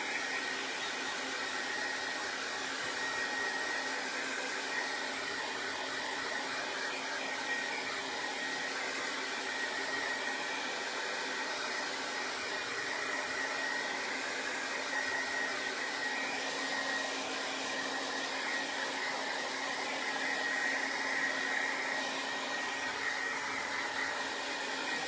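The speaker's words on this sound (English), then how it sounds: "Let me grab this blow dryer" A blow dryer runs steadily for the whole stretch, a constant loud whooshing hum with no breaks and no voices.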